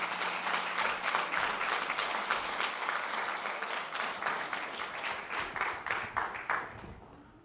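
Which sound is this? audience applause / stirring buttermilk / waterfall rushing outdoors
audience applause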